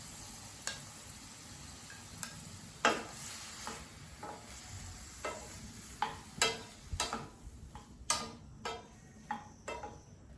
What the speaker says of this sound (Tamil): நாங்கள் மசாலை பன்றி இறைச்சியை போட்டு வதக்க போகிறோம்.